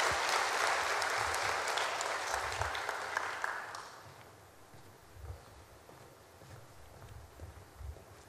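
A church congregation claps together during a worship service, dense applause filling the room for several seconds before fading out into quiet murmurs and faint rustling.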